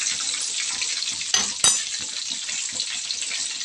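Curry leaves, added after cumin, frying in hot oil give a steady bright sizzle with crackling, broken by two sharp clattering knocks near the middle; no one speaks.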